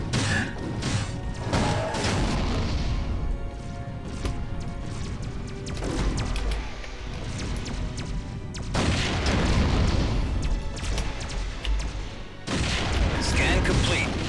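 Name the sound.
gunfire in space combat, from video game Wing Commander Prophecy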